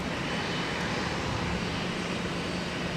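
A jet airliner roars steadily on its takeoff roll at Minneapolis–St. Paul Airport, a loud and continuous broadband engine rush heard from a distance, with no voices.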